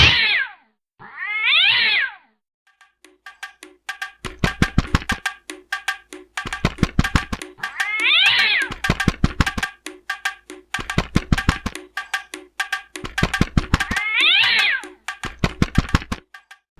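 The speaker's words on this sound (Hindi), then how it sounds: "कबूतर जब बड़े से पेड़ के पास पहुंचा तो उसके पीछे एक जंगली बिल्ली पड़ जाती है और उसे खाने के लिए दौड़ पड़ती है।" Wild cat in a cartoon meows and caterwauls in several drawn-out calls while chasing a pigeon, with rapid tapping, knocking footsteps in between, loud and near.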